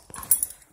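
Puppies whimpering and scuffling as they play, a short burst of close, high yelps and soft rustling movement with a sharp peak in the middle.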